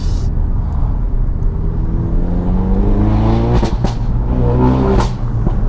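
Ford car fitted with a Scorpion exhaust, engine droning at idle then revving sharply twice with rising harmonic roar and crackle, loud and close with no talking.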